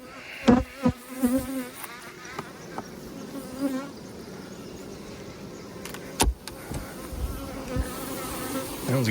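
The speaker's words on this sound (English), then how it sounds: "That one's got quite a few bees left in it." Honey bees buzz steadily around a hive box at a bee farm, with a few louder individual bees passing close by at intervals.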